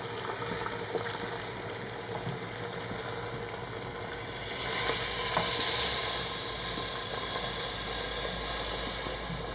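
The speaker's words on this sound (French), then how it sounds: "Et je vais rajouter l'eau" Water poured into a hot pot of couscous cooking with sheep's head and onions, giving a steady loud sizzle and hiss that swells briefly midway and settles into a constant bubbling steam.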